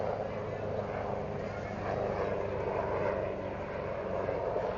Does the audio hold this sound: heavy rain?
no